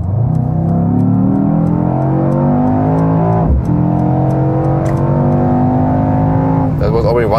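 A Mercedes-AMG E63 S with a 4-liter V8 accelerates hard along the German Autobahn, its engine note climbing steadily and loud through the gears with a brief shift dip midway, continuous road and wind roar beneath.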